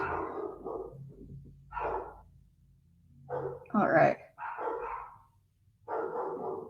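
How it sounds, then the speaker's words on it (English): Dogs barking at home during a craft session, a few short barks rising over a person talking nearby, brief and partly masked by speech. "Oh, you can hear my dogs."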